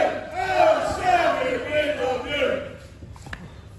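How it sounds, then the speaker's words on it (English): Spectators at a live professional wrestling show roar and jeer in a sustained, swelling wave, with a commentator's voice running over the crowd noise throughout. "He's hearing the crowd"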